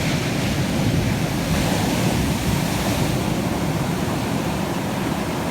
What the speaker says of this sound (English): Some good waves coming in there